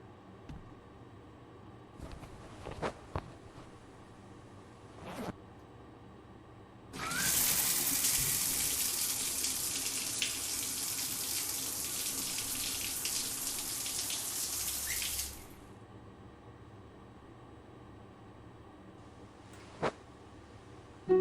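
Shower water running in the psychological horror game The Milgram Experiment, a steady loud hiss of spray lasting about eight seconds and stopping abruptly, with faint clicks and thumps before and after.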